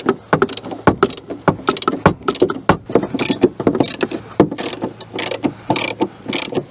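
Ratchet wrench clicking in quick bursts as seat bolts are loosened on a TYM T25 compact tractor, close and loud, with brief pauses between runs of clicks.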